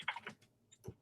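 Short bursts of computer keyboard typing while entering Python code on a Raspberry Pi setup: a quick cluster of close clicks, a pause, then a final keystroke, all fairly quiet.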